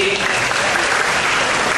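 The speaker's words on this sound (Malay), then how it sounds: "berikan tepukan untuk Ustaz Syukri," Audience applause for speakers at a student Islamic preaching forum, a steady dense clapping that fills the whole short stretch at an even loudness.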